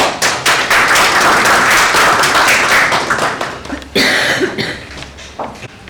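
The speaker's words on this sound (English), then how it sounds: "Let's all welcome him with a big round of applause" Audience applause welcoming a media scholar to the stage, loud close clapping that tapers off, followed by a brief cough and a few scattered thumps and claps at the end.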